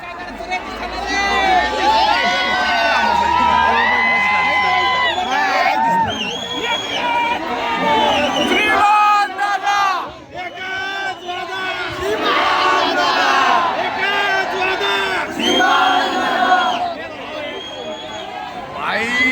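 A dense, loud crowd roars and shouts continuously at a hero fan event in Pune, with chanting, cheering and overlapping voices filling the air throughout, dipping briefly before surging again.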